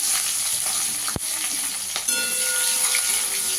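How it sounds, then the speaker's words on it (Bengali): Sliced onions and four slit green chillies sizzle in hot oil in a wok, with a black cumin seed tempering. A steady, loud, close crackling hiss continues throughout, with a brief clink of utensils partway through. "পেঁয়াজটাকে একটু ভেজে নেব"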